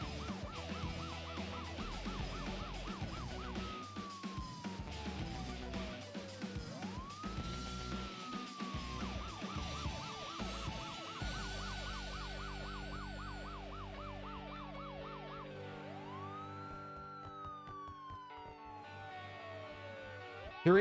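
Sirens in a physics-simulation leaf blower video game wail continuously, rising and falling in long sweeps and fast yelps, layered over electronic music and rumbling engine noise.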